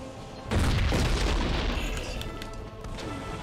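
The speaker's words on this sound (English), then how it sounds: "Firing lots of missiles." Missiles fired in the action game Too Human, a sudden heavy boom of launch and impact that bursts in loudly, then a rumbling, crackling tail slowly fading over a few seconds.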